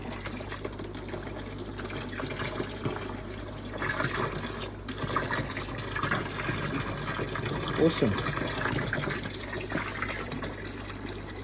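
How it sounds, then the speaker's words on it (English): Water gushes steadily from a hose pipe into a bucket for an aquarium water change. The rushing, splashing fill stays constant, and a voice speaks briefly over it. "I'll open up the hose pipe and we'll see if the water is flowing to the other side."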